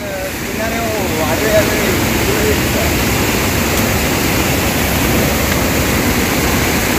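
A roaring waterfall at Saitwade in heavy flow, a loud, continuous broadband rush of water filling the whole stretch, with no speech over it.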